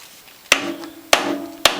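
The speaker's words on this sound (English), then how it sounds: "tap it to loosen the screw, kind of like an impact wrench" A hammer taps a screwdriver to loosen a corroded screw on a Norwalk juicer, three sharp, loud metallic strikes with a short ringing tail after each.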